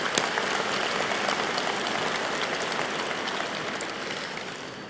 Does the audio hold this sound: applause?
yes